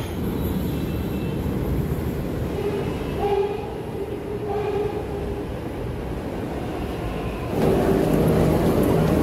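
A Delhi Metro train from Rajiv Chowk to New Ashok Nagar rumbles steadily along with a continuous roar and faint squealing tones, growing louder near the end; no one speaks.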